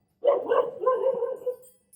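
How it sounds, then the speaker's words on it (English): A dog gives a quick pair of barks followed by a drawn-out, whiny bark, close by and alone. "The dog barking."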